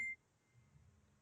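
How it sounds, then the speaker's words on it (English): A single short phone notification beep, a clear bright tone at the very start that cuts off quickly, leaving quiet room noise. "That was my phone."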